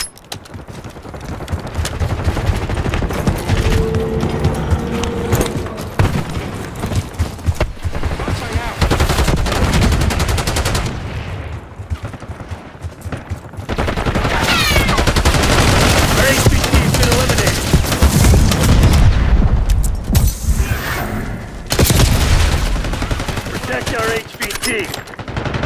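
Heavy automatic gunfire in Call of Duty Black Ops 6, loud sustained bursts and rattling fire that keep going over most of the stretch, with game voice callouts mixed in.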